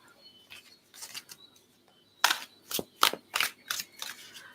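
Tarot cards being shuffled in short, crisp riffling bursts, quiet at first and then louder and closer, repeated several times in a soft, close setting.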